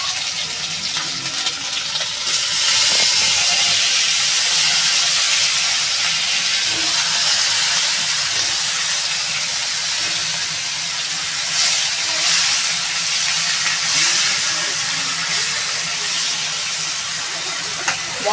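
Bengali egg posto spice paste of ginger, black cumin, onion and garlic sizzling in a hot pan, a loud steady hiss that holds for the whole stretch with little change.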